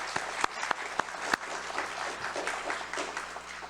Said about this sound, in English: how about a round of applause for the two of them?